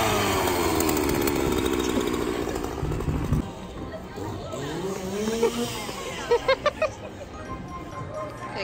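A chainsaw roars inside a haunted house attraction, loud and close at first, then fading as it moves off, with shrieks and voices of visitors over it and a few sharp bangs near the end.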